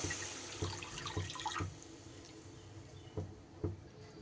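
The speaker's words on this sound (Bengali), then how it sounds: "এইবার দিয়ে দেব আমি জল।" Water is poured into a cooking pot of lentil kofta curry, giving a quiet, intermittent patter and splash with a few separate drips, close by and soft, with no talking.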